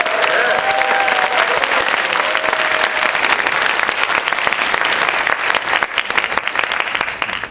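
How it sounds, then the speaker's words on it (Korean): Audience applause fills a Korean talk event, a dense, steady wash of clapping from a live crowd that holds throughout, with a few faint voices rising briefly near the start. "근데 박수가 이 정도밖에 안 나오군요"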